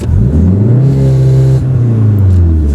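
A car engine holds a loud, steady high rev on launch control with brakes and throttle applied together, a strong droning tone that dips briefly and climbs again, close by and alone.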